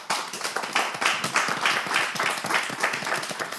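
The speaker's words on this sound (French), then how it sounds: "Si vous êtes là, on applaudit fort." A group of children applauds loudly, a dense, fast patter of many clapping hands that keeps going the whole time without talk.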